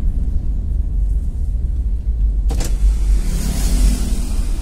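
A car's power window opens with a brief whirring motor around the midpoint, after which outside air and road rumble swell. A low engine drone continues throughout on a quiet holiday evening in Jogja, and no one speaks.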